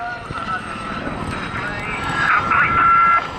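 A Gazelle helicopter's rotor and engine drone steadily at a distance during a flying display at the 2019 Southport airshow, swelling slightly louder toward the end, with wind noise underneath.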